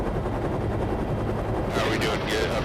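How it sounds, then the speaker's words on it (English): A helicopter flies overhead in a canyon, its rapid rotor chop booming and echoing off the walls, steady and loud with a burst of brighter noise near the end. "when you hear it, you have no idea where the helicopter is"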